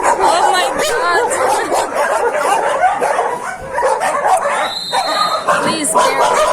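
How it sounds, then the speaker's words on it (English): Dogs barking, yipping and whimpering at an animal shelter, a loud continuous chorus of several dogs close by, with a person talking over the noise. "Don't bark, please."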